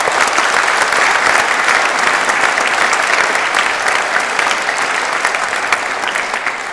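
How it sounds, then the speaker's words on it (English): Audience at a 2016 social value awards event applauds with steady, dense clapping that stays loud and sustained from start to finish, with no talk over it. "If you can join me in thanking them with applause,"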